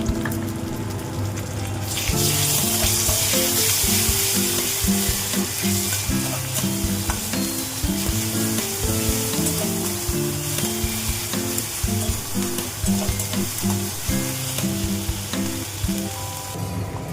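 Lightly browned onions sizzle loudly as garlic and ginger paste go into the pan for an egg dish, with a sudden burst of frying after a quieter start and a steady crackling hiss over a low rhythmic tonal background.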